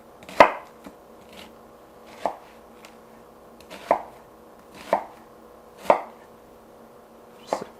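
A knife chops onions on a cutting board in six sharp, evenly spaced strikes at roughly one-second intervals, close up and clear with no talk.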